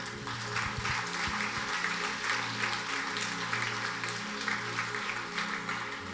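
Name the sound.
congregation applauding the reading in church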